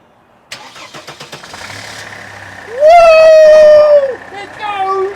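A 2004 Mercedes ML270 diesel with poor starting, heard close as a run of rapid starter-motor cranking clicks, then a loud engine catch and rev that settles into a rough idle, with voices nearby.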